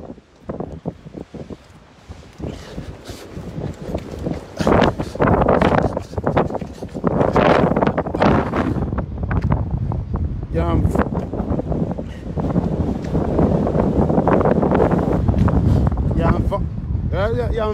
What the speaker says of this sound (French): Il y a un vent qui ne rigole pas